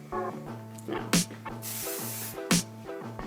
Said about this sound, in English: I spray that, keep the bump into place